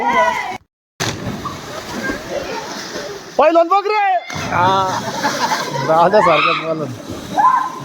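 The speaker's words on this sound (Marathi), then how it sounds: "आमच्या विहिरीमध्ये किती गर्दी झाली आहे पोहण्यासाठी" Children swim and splash in a village well, water sloshing and slapping close by while young voices shout and talk loudly over the churning.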